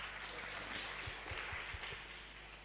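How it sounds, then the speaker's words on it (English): Faint, distant crowd applause forms a wash of noise at a public youth discourse competition semi-final, steady throughout and slowly fading at the end. "please give him with a fantastic clap"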